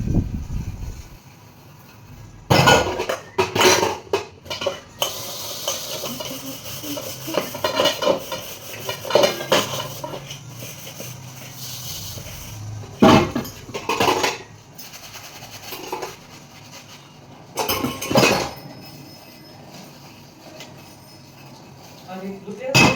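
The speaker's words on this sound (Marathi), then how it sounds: "पण मी आता जे अगोदर भांडे घासून घेते." Pots, pans and cutlery clatter and clank as they are scrubbed and washed at a home sink, with irregular sharp metallic knocks, running water hiss and someone talking throughout.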